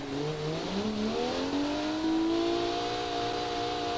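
An Audi RS6 engine in the BeamNG driving game revs steadily upward in pitch, a loud, continuous simulated engine drone heard alone with no talking.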